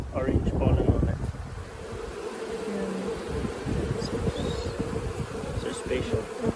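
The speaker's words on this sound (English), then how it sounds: "Look at this bee with the orange pollen on it." Honey bees buzzing around open hive frames during a summer brood inspection in South Africa, a dense steady hum of many bees close to the microphone, with wind noise and some handling sounds.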